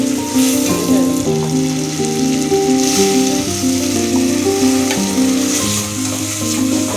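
Steady loud sizzling and frying of a ground paste of chilli powder, coriander powder, turmeric, tomato and onion in a pan for crab curry runs throughout, with a musical background playing along. No talking.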